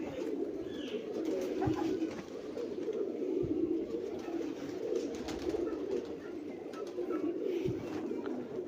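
Teddy pigeons coo in soft, low, repeated throaty calls, close by against a steady background hum, with no talking.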